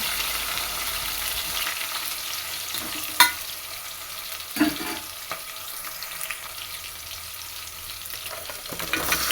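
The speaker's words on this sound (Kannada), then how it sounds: "ಈರುಳ್ಳಿ ಎಲ್ಲ ಹಾಕ್ಕೊಂಡಾದ್ಮೇಲೆ ಚೆನ್ನಾಗಿ ಫ್ರೈ ಮಾಡ್ಕೊಬೇಕು." Onions sizzling steadily in a hot pan, a soft continuous fry with a couple of brief clinks or knocks from stirring; no talking.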